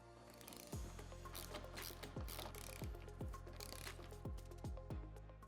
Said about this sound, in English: we're going to remove the two bolts going through the A-pillar on the passenger side.